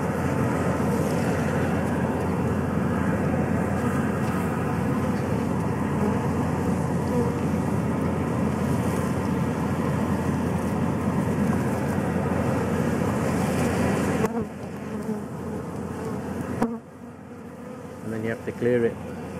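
Home-made bee vacuum drawing a swarm of bees into its tube, a steady loud motor drone with insect buzzing mixed in, running continuously before cutting down and stopping near the end.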